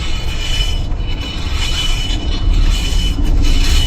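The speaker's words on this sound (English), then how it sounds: "that noise is definitely coming from the brakes" Brakes on a 30-year-old Subaru Loyale give off a steady, loud metallic scraping and grinding from the wheel, continuous and rough throughout, with no voices.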